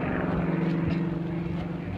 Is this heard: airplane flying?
yes